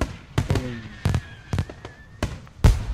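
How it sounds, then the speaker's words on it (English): Fireworks bursting high above a school at night: a series of loud, sharp booms and cracks, roughly six blasts in three seconds, each followed by a short crackling tail. No voices. "a burst of red and yellow flame lights the sky high above the school with another loud boom"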